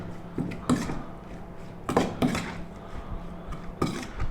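A dry pan being set down on a cooker, heard as several distinct metallic clanks and knocks spaced a second or two apart, close and fairly quiet, with no voices.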